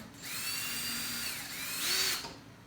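A cordless power drill whirs steadily while driving screws into a DIY wooden bench, with one continuous run that rises in pitch and strains near the end before cutting off, close and alone.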